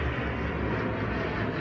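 An airplane flying overhead outdoors, a steady broad engine rumble and roar, moderately loud and unbroken, with no talk over it.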